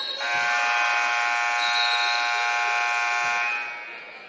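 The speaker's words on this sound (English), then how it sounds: "Got the buzzer going again." A basketball game buzzer at a girls' high school matchup blares in one loud, steady electronic tone held for about three and a half seconds, then cuts off, with no talk over it.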